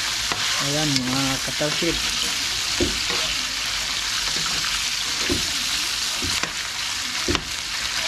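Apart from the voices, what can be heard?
stirring pork belly adobo frying in a pan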